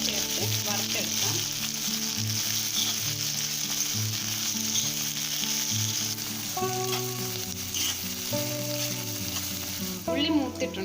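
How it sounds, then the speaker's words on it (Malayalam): Onions fry in ghee or dalda for vegetable fried rice, giving a steady, close sizzle throughout with melodic background music playing over it. "അടുപ്പത്ത് വെച്ച് നെയ്യോ ഡാൽഡയോ നല്ലതുപോലെ ഒഴിച്ചതിന് ശേഷം അതിലേക്ക് സവാള ചേർത്ത് വറുത്തെടുക്കാം."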